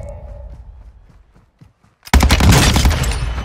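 Cronen Squall rifle gunfire in Call of Duty Warzone 2.0 erupts after a quiet lead-in, a loud sustained burst of rapid shots packed densely together for over a second.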